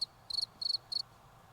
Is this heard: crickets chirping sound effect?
yes